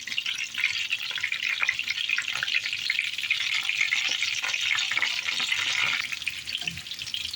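Chicken meatballs sizzle steadily in hot oil in a pan, a continuous bright crackling frying sound with occasional stirring and small pops, close and alone without talk.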